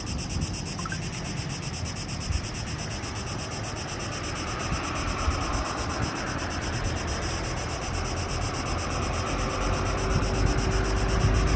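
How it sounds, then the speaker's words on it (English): Steady wind buffets the microphone at a seaside airport on Zakynthos, a continuous rushing roar with gusty rumble that holds alone and unbroken throughout. "the wind's picking up down there"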